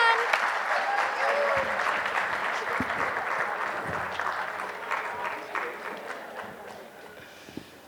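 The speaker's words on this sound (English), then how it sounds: "Let's give a huge cheer for Sort It Early." Audience at a book launch cheering and applauding, a burst of clapping and cheers that gradually thins out, with voices in the crowd.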